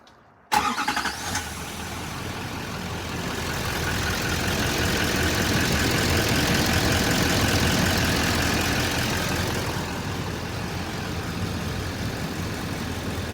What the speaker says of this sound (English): we turn on our engine.